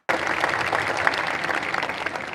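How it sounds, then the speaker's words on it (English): Dense, steady applause from a live audience at the global debut event for the all-new Ford Mustang, loud and continuous for a couple of seconds with no talk over it. "Round of applause again."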